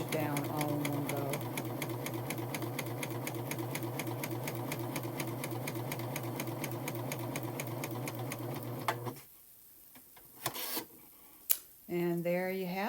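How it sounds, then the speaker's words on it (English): An Admire Air 7000 sewing machine stitching a cover stitch with a strap and belt loop foot runs in a fast, steady mechanical chatter for about nine seconds, then stops, leaving a few faint clicks and a brief voice. "so that you can then do the cover stitch"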